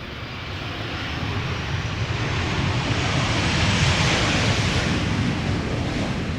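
Emirates airliner at Amsterdam Schiphol Airport, a loud, steady jet roar that builds gradually and holds near its peak throughout, with broad rushing noise and no voices.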